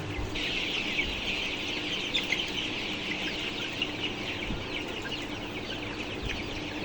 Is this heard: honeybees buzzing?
no